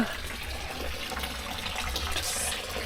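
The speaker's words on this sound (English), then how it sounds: "We will slowly let in the water from our pond" Pond water pours steadily into a plastic bag holding young fish, a continuous close gurgling trickle with faint splashing and no voices.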